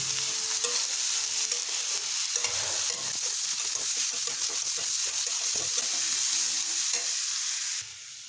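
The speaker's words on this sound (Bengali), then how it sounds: "তাই এটাকে আমরা মিনিট 3 ধরে লক্ষ্মীভাবে কষানো দেবো।" Vegetables with drumstick pods and salt sauté in a hot pan, giving a loud, steady sizzle broken by frequent scraping stirs, with no one talking.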